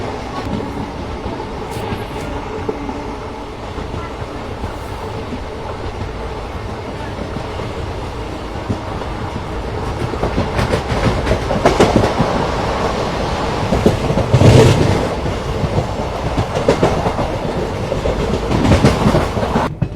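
Recorded on board a WAG-9-hauled train speeding through a station, the carriage rumbles and clatters steadily, growing louder toward the end with rhythmic wheel clicks.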